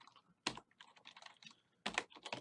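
Typing on a computer keyboard while writing Excel VBA code, with two loud bursts of rapid key clatter separated by softer, irregular tapping, close and alone.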